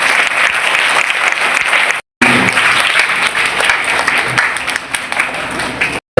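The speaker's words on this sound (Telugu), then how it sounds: "and also give a big clap" Audience applause at a school event, loud sustained clapping from a large crowd with two brief cuts to silence.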